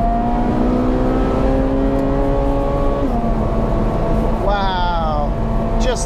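A Ferrari 458 Speciale Aperta driving with the roof down on a Scottish road: the engine rises in pitch through the revs, drops at a gear change, then climbs again, loud under steady road and wind noise, with talking mixed in.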